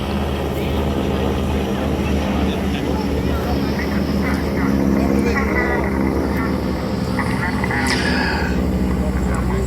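A propeller aeroplane flies at an outdoor air show over Bray, Wicklow, carrying a wing walker strapped upside down on the wing, giving a steady loud engine drone throughout while a commentator talks over it.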